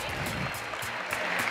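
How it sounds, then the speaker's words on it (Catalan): A crowd at a festive gala for young conscripts and their families in Deltebre claps briefly, a moderate burst of applause with pulsing peaks under a room's ambience. "moltíssimes gràcies a aquest nou aplaudiment"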